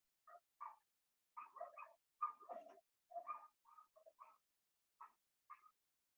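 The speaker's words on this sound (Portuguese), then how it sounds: "um cachorrado aqui do vizinho aqui que tá osso" A neighbour's dogs barking in a scattered volley of short yaps and woofs, a dozen or so irregular barks with brief pauses, heard from some distance and fairly faint, with no one talking.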